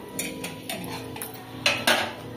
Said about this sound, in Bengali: এইবার প্রেসার কুকারের ভেতরে দেখছো এইভাবে বসিয়ে দিলাম